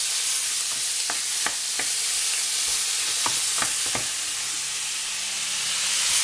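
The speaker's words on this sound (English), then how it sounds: "so you're just stirring it around in the oil" Food fries in oil in a pan as it is stirred, a steady soft sizzle with a handful of sharp scraping clicks from the utensil, close and without voices.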